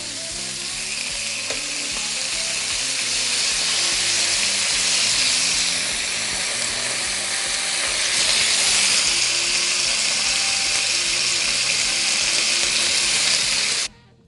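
Chicken breasts fry loudly in a hot pan, a dense, steady sizzle and crackle that holds close and even for several seconds before cutting off abruptly.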